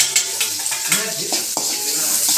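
Chopped onions, green chillies and curry leaves sautéing in a pan for fish curry, a close hiss of frying broken by several sharp spoon scrapes and taps against the pan.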